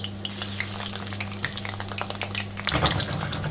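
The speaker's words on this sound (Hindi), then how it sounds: "अब इसमें मैं ये पोटैटो वाफल्स डालती हूँ। तेल बहुत गर्म हो चुका था" Potato waffles fry in very hot cooking oil with the heat turned down, giving a continuous crackling sizzle with a steady low hum underneath, which grows a little louder and busier near the end.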